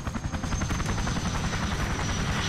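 A helicopter in Call of Duty Black Ops 2 thumps close and loud, its rotor beating in a fast steady rhythm over a constant engine whine with no break.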